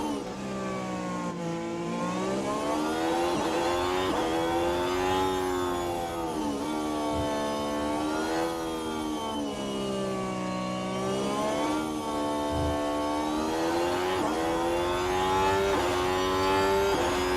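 Formula 1 race cars in the F1 Manager 24 racing game on the Baku street circuit in Azerbaijan, with engines whining and revving continuously as they rise and fall through gear changes, loud and sustained throughout.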